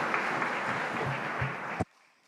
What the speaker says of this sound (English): Why don't we give each other a big round of applause as we kick off the forum.